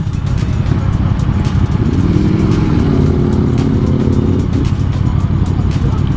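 A QJMOTOR SRV 600 motorcycle engine rumbles steadily at close range, its low throb rising briefly in the middle, with wind noise and a voice talking over it.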